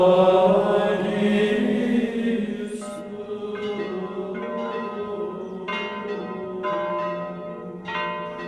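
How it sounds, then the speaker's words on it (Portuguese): Cathedral bells brought from Italy ring out in Grajaú, Maranhão, with a sustained low hum beneath, then a series of distinct, resonant strikes repeating every second or so, each leaving a long shimmering decay. "Os sinos da catedral vieram da Itália"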